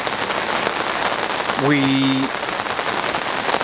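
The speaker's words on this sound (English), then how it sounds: "it does tend to rain quite a fair bit here" Heavy rain pours steadily and loudly at a fishing lake in France, a dense hiss throughout, with a brief voice and a short tonal whine partway through.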